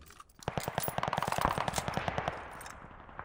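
A machine gun fires in a World War II first-person shooter game, a loud, rapid burst of evenly spaced shots lasting about two seconds before a fading echo tail.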